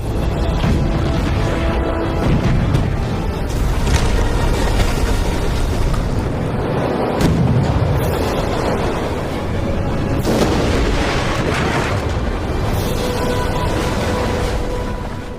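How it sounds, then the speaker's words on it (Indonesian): Heavy booming blasts and rumbling roar, loud and continuous, like repeated cannon fire with crashing impacts. "terjadi saat kapal-kapal perang Wakizaka terkena tembakan meriam dari arah yang tak disangka-sangka."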